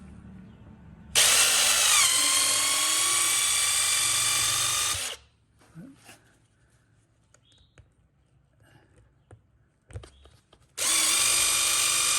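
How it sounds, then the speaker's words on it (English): A power drill spinning a tire reaming tool whines at high speed for a few seconds, stops, then quiet handling noises follow before the drill spins up again. "Put the reaming tool in the drill."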